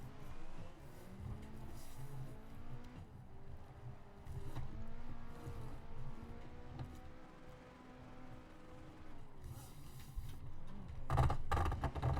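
A car drifting into a starting spot, engine droning and revving in shifting tones, with tire noise building to a louder burst near the end.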